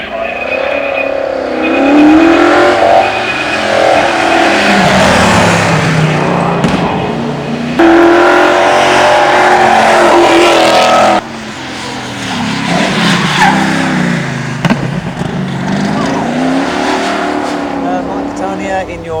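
A TVR Griffith 500 races up the Loton Park hill climb at a TVR car club speed championship, its engine roaring loud and close through gear changes with tyre squeal, while a commentator talks over it throughout.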